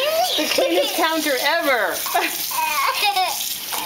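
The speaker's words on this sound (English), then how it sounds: "There's water everywhere." Water splashes at a counter during hand washing, a steady wet wash running under an adult talking and a child babbling and chuckling close by.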